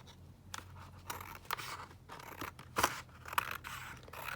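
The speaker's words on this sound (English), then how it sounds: "I'm just going to trim this off down this edge." Scissors trimming along the edge of a sheet of Tim Holtz paper, a series of crisp close snips and cuts at irregular intervals, faint and alone.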